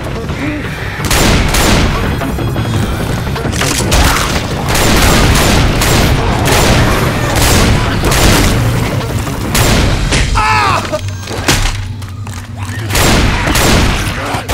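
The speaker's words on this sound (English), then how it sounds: "Shotgun." Repeated shotgun blasts from the Left 4 Dead 2 zombie shooter fill the scene, loud booming shots in a dense, continuous barrage mixed with chaotic action noise, with a brief shout near the end.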